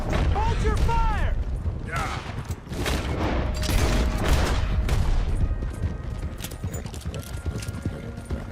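Gunfire rattles in the Western video game Red Dead Redemption 2, rapid shots mixed with galloping horse hooves and a whinny, loud and continuous, with voices shouting over the fray.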